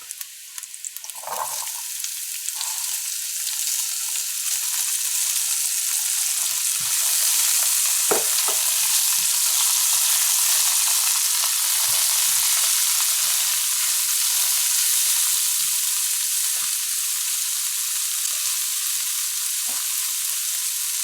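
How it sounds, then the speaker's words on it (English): Mixed vegetables for fried rice stir-fry in a hot pan, a loud, continuous sizzle that swells after a few opening scrapes, with occasional utensil knocks and stirs throughout, close up and without talking. "we're gonna add the mixed vegetables first because that's a bit harder"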